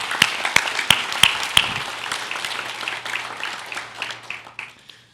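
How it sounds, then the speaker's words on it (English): A church congregation claps for its small group leaders: a handful of sharp, loud claps open the sound, then scattered lighter clapping spreads through the room and slowly fades out, with no talk. "let's give a round of applause for our leaders"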